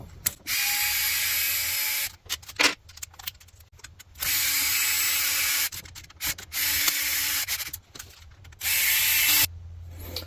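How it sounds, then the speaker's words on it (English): A small powered driver removes a screw from the front bumper mount of a Losi LMT RC monster truck, giving four separate bursts of whirring, ratcheting buzz with short quiet gaps between them. "I'm going to remove that other screw real quick"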